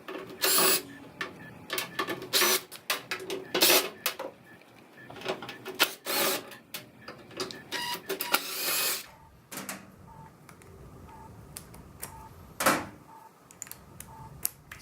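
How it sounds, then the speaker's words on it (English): A power screwdriver whirs in short, repeated bursts while backing Phillips head screws out of the back of a microwave, with scattered clanks and quiet gaps between bursts. "we're going to find a few screws that use a Phillips head that we're going to remove"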